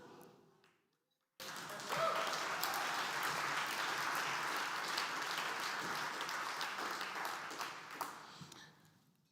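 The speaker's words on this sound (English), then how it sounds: "he deserves much more than applause for that" Sustained audience applause at an anniversary celebration for a school of psychology and marriage and family therapy, starting abruptly after a brief silence and holding steady before tapering off near the end.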